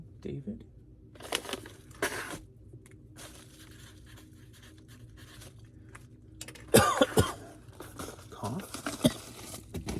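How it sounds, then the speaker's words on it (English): Several harsh coughs in short bursts, a couple early and a louder cluster later, separated by quiet room noise. "Cough."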